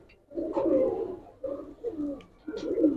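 Bagha khaki pigeons, a tumbling breed, coo in low, soft, throaty bursts, three or four rolling phrases close by and fairly quiet.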